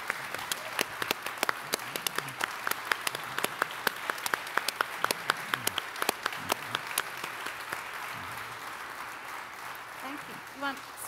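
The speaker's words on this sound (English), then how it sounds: "And so I would ask every one of us to give a loud round of applause and ask Phil to take that back to his staff," A breakfast-event audience with local mayors gives a dense, sustained round of applause that runs about eleven seconds before thinning out, with faint voices underneath.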